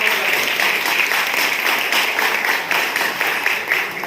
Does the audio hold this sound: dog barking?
no